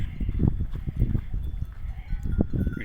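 A flock of some three hundred sheep grazing in a pasture, with repeated low bleats overlapping close by against a steady outdoor background and no speech.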